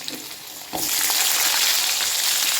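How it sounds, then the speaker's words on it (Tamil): Onions sautéing in a pan with garlic, a loud, steady close sizzle that jumps up sharply after a quieter opening and then holds, with faint stirring. "இப்போ நம்மளோட வெங்காயம் வந்து நல்லா வதங்கிடுச்சு"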